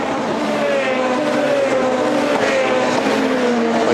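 Chevrolet touring race cars in the 2007 WTCC round at Porto, Portugal, accelerate hard out of a chicane. Their engines blend into a loud, continuous roar with rising revs and no pauses.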